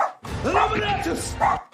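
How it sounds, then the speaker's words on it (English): An excited dog barks and yips in a quick burst, close and fairly loud, with a brief pause before a final bark. "The dog is so excited."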